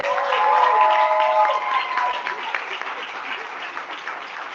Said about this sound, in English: can we please give them one last round of applause?